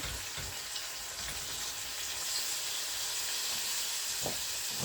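Flour-coated chicken sizzles in hot oil in a pot, a dense continuous hiss and crackle with occasional sharper pops, steady and fairly quiet.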